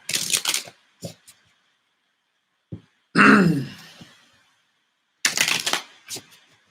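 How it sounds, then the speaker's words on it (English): Bursts of shuffling tarot cards, riffles and taps close by, with a throat clear in the middle and pauses between. "Let's shuffle these cards for my Aqua."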